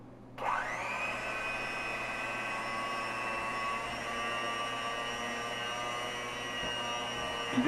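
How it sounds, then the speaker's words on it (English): An electric hand mixer whirs into lemon bundt cake batter, starting abruptly and holding a steady high motor whine with a low hum, close and alone. "take the mixer, my hand mixer, and mix this all up"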